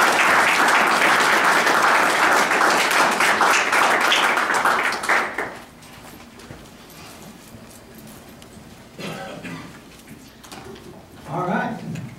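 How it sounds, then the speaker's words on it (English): Audience members at a city council meeting break into loud, dense applause for about five seconds, then it stops and quieter room noise and brief talk follow. "Please give Chief Class a round of applause."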